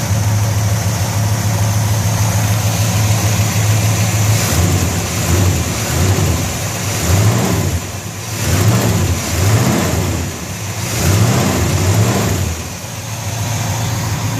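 A 1964 Chevelle convertible's engine idles cold with a steady low rumble, and a faint, subtle hydraulic lifter tick runs under it with no talking.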